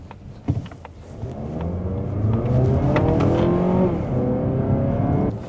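A 2026 Mazda CX-30 2.5S Aire Edition accelerates from inside the cabin, its engine note rising steadily through the gears with a brief thump at the start, loud and close with no talk.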